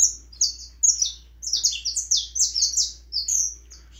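A female canary, mother of a brood of chicks, sings rapid bright chirps and trills in quick bursts, close and clear over a faint low hum, with no talking.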